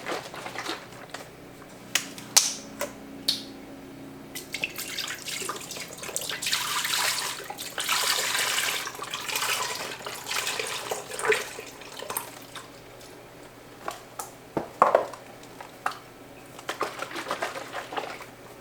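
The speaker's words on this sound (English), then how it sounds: "So you're going to add 2 of those into the Instant Pot." Soy milk poured into an Instant Pot, a gurgling liquid stream that swells in the middle and then tapers, with clicks and knocks of cartons and the pot around it, close and with no talk.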